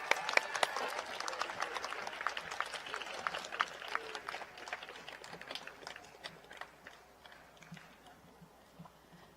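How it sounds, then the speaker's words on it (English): Audience applause for faculty and staff at a school Founder's Day ceremony, a dense burst of clapping that starts strong and gradually thins and fades over several seconds. "Let's have one more round of applause for our award-winning faculty and staff up here on the stage."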